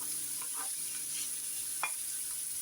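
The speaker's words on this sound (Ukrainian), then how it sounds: "так додаємо морковочки сюди і одразу також ми її трошечки піджаримо" Carrots fry in a pan for a meat-mince ragout, giving a soft continuous sizzle with a couple of faint scrapes and clicks of stirring, fairly quiet.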